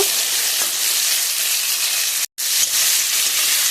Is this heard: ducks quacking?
no